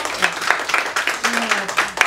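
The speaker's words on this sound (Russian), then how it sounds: "Поэтому ей тоже аплодисменты." An audience at a children's theatre performance claps in sustained applause, crisp individual claps fairly close, while a voice talks over it.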